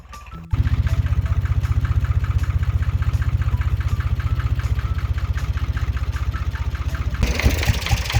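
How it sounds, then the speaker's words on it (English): A tractor engine idles steadily close by, a loud, even low rumble with a fast regular chug that runs almost the whole time after a brief quiet start, roughening slightly near the end. "so I'll turn the tractor off"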